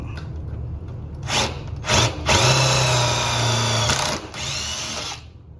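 A power drill bores a hole during a radiator install on a 2007 Honda Accord, several short bursts of whirring followed by a longer sustained drilling run, close and loud, with no talk.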